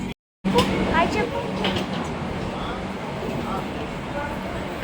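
Busy platform ambience at Kazipet railway station: a steady broadband rumble of rail traffic and crowd noise, with voices talking nearby throughout after a brief silent gap at the start.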